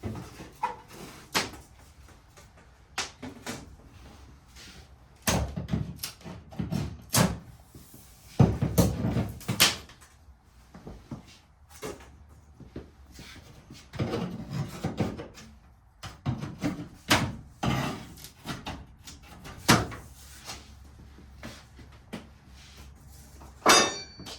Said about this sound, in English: I'm going to use my little flat bar here, and I'm going to take just this casing off around the perimeter of this door